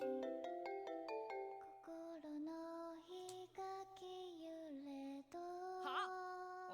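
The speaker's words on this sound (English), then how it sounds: "Whose phone is that?" A mobile phone ringtone from the Digimon Survive video game plays a bright, chiming electronic melody, a run of clear ringing notes repeating steadily and alone for several seconds.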